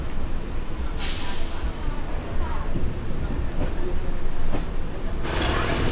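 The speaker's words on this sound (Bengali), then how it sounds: "এই ট্রেনটি হুগলি সেতুর নিচ দিয়ে একদম যাচ্ছে" A local train passes beneath the Hooghly bridge in Kolkata, with a continuous close rumble and rattle of wheels, sharp bursts of hiss, and clicking over the rail joints.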